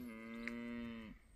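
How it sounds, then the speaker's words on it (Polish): A single cow moos in one long, steady low call lasting over a second, heard close and clear in quiet countryside along a bikepacking route in the Bieszczady mountains, with no talking. "Jest krowa."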